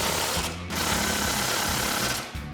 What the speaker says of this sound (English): take my 21mm socket to tighten these down